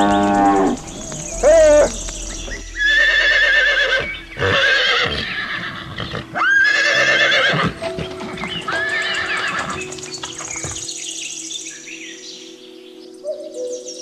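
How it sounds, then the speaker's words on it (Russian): Horses neigh and whinny loudly at dawn among lowing cattle in a rural Altai valley, several long calls overlapping across the stretch with a steady low drone beneath. "контральто очнувшихся от дрема лошадей"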